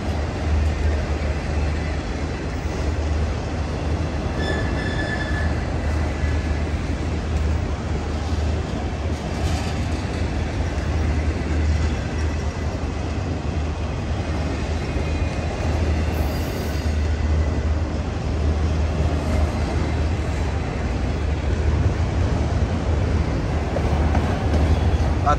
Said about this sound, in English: This train shows up.